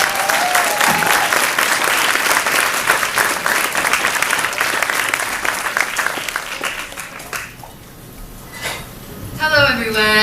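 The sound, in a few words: audience applause for a speaker at Nerd Nite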